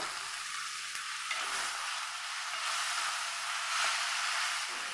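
Sliced onion added to chicken masala frying in a pan and stirred, a steady bright hiss of frying oil with faint scraping of the spoon, close, continuous and without speech.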